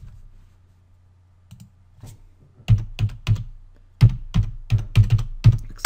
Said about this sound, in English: going to enter in your password as Raspberry once it asks you for your password